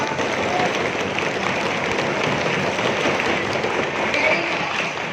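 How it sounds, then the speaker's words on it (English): Children clapping together at a school youth parliament session, a dense, sustained wash of applause at steady volume with no clear individual claps standing out. "Children, clap for us."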